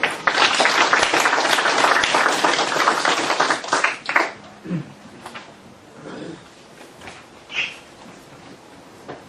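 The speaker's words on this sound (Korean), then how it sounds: "큰 박수 부탁드립니다." An audience at a Thursday philosophy colloquium applauds a lecturer with a thick burst of clapping that thins after about four seconds into a few scattered, fading claps and near silence.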